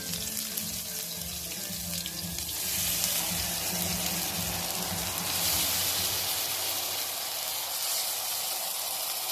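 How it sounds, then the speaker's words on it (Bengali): Marinated fish pieces hiss and sizzle steadily in a little mustard oil in a wok over lowered heat, making the Bengali mustard fish dish, a continuous close bright frying noise with no voices. "এবার এই মাখানো মাছগুলো আমি একটা একটা করে দিয়ে দিচ্ছি"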